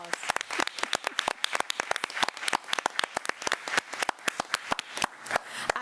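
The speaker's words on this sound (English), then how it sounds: "So let's give them a big round of applause." A crowd at a school board meeting claps in a dense, steady round of applause, with many sharp overlapping claps sustained throughout and no voices.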